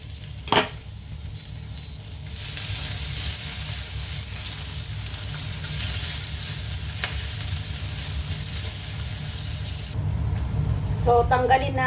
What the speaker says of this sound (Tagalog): Prito ko yung taba.